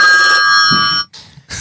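A cell phone ringtone sounds loud and close as a bright sustained tone that cuts off after about a second, followed by brief sharp noises.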